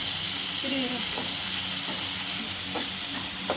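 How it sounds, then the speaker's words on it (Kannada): Chopped tomatoes fry in a pan for brinjal masala gravy, giving a constant bright sizzle with soft stirring scrapes and occasional faint clinks. "ಈಗ ಅದು ಟೊಮೆಟೊನ ಫ್ರೈ ಆಗಲಿ."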